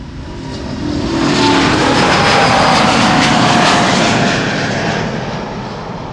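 Finnair jet airliner taking off from Amsterdam's Polderbaan runway 36L, a loud broad engine roar that swells to a peak and then fades slightly as the aircraft passes, with no talking.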